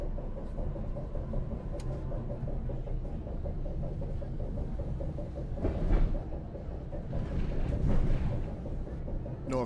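An NJ Transit train on the Morristown Line in Train Sim World 6, Arrow III or ALP-45DP, running under power with a steady low rumble and rail noise, with a couple of louder swells and clanks.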